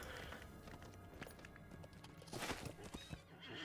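Horse hooves clip-clopping at a quick pace in the online game Lord of the Rings Online, with a neigh or whinny and dense game sounds throughout, the hoofbeats growing louder toward the end.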